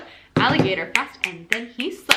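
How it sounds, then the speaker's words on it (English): Crisp finger snaps keep the eighth-note beat of a children's rhythm chant in an elementary music lesson. Several sharp, evenly spaced clicks fall under a teacher's close, lively chanting voice. "We have snapping for our 8th notes"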